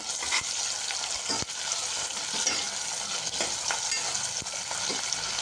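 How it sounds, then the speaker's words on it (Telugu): Onions frying with salt in a pan for khichdi, stirred steadily: a loud, continuous close sizzle with occasional scraping clicks from the spoon, no voices. "చక్కగా దూరగా కలుపుకుంటూ వేపుకుందాము"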